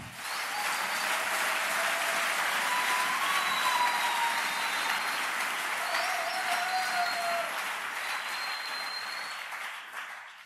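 A church audience at a servants' conference claps and cheers steadily in a large room, with sustained dense applause and a few voices rising above it throughout.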